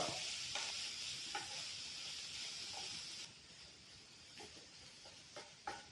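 Raw papaya thoran, Kerala style, being mixed in a non-stick pan, a soft hiss of frying with intermittent scraping and clicking stirs, faint and close, without talk.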